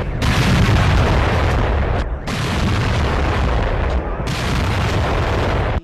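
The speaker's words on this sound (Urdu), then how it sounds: "پاک فوج کے چاق و چوبند دستے نے وفاقی دارالحکومت اسلام آباد میں 31 اور صوبوں میں 21 توپوں کی سلامی دی۔" Pakistan Army ceremonial cannon salute fired in Islamabad, heard as loud, sustained booming roars with two brief gaps between long rumbling blasts, with no speech.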